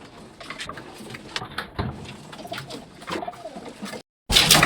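A male pigeon coos in soft, low, throaty bursts close by, repeated several times against quiet background noise, before a short silence and a loud burst of rushing noise at the end.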